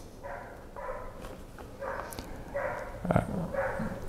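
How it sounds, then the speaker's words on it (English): Several dogs bark in repeated bursts, a few moderately distant, with a brief sharper yelp near the end. "Barking dogs, not our dogs."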